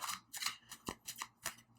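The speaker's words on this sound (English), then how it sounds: "I'm going to do another quick shuffle before we get started." A tarot deck is given a quick shuffle, heard as several close, crisp riffling bursts of cards over under two seconds, with no talking.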